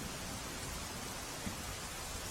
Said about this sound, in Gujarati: વલસાડ જિલ્લામાં સતત ચોથા દિવસે અવિરત વરસાદ વરસી રહ્યો છે